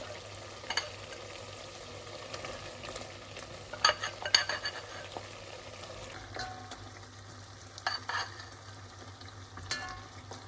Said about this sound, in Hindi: अब जो हमने गोश्त भून के साइड पर रख दिया था, अब उसको एहतियात से वापस डाल देते हैं।